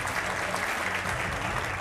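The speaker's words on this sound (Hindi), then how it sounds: "तालियों के साथ स्वागत कीजिए" A studio audience at a Hindi TV news debate applauds to welcome a panelist, a dense, steady burst of clapping throughout.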